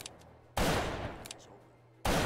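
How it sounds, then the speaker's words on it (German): Precision revolver fired in a Call of Duty game set in the American Civil War: two loud, sharp gunshot bursts with long echoing tails over quiet game ambience. "Okay, das ist noch ein Präzisionsrevolver."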